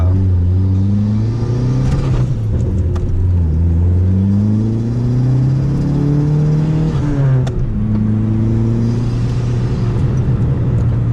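Dodge Neon SRT-4 engine revving and accelerating while driving, the pitch climbing in steady sweeps, dipping near the middle as the throttle is feathered, then rising again, loud and close with constant road rumble underneath.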